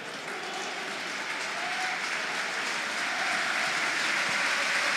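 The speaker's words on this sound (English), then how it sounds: "applause around the ground for a young Leeds United fan, Daniel Grace" Sustained applause rolls around a football stadium at a Leeds United home match against Cardiff City, a dense, even wash of clapping from the whole crowd that holds steady and swells slightly toward the end.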